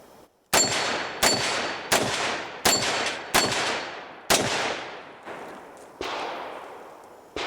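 A revolver handgun is fired around eight times in sharp, loud reports spaced roughly a second apart, each one ringing off briefly before the next.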